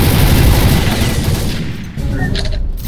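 Loud, dense video game gunfire rattles in rapid overlapping bursts, briefly dipping before a few more sharp shots ring out.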